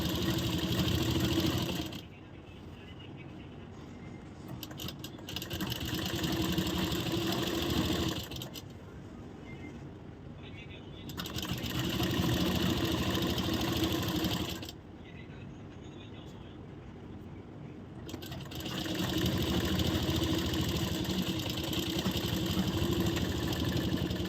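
A sewing machine stitches a blouse in long steady runs of close mechanical whirring, pausing briefly between seams, with a voice talking over it.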